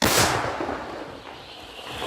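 An artillery gun fires one loud shot, a sharp, heavy blast up front that trails off into a long rolling rumble over about two seconds.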